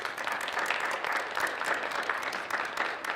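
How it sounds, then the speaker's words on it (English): An audience at a staff regent candidate forum gives a round of applause for the organizers, with dense, steady clapping from many hands at a moderate distance, fairly quiet overall. "If you give them a round of applause, that would be great"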